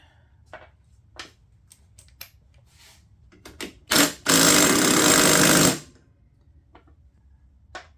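A loud impact wrench rattles in one short burst and then a sustained run of about two seconds on the deck of a John Deere LT150 lawn tractor, between scattered clinks of tools and parts.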